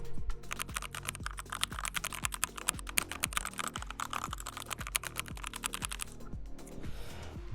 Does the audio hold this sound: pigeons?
no